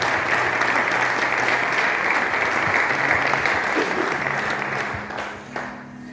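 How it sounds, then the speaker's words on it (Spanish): Applause from a church congregation after a sermon reading, a dense steady wash of clapping sustained for several seconds before thinning out near the end, with a low hum of background noise underneath. "Fuerte el aplauso a su palabra,"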